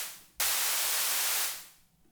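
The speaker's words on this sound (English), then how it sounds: "Add some white noise." White noise from a Drift synthesizer, with the oscillators off, cuts in abruptly as a bright, steady hiss. It holds evenly for about a second, then fades smoothly away.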